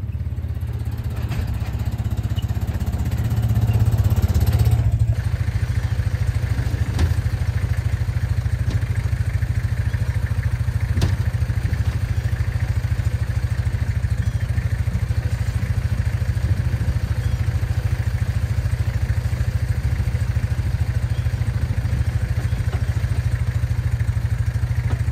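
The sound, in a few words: small four-wheeler ATV engine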